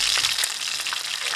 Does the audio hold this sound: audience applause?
no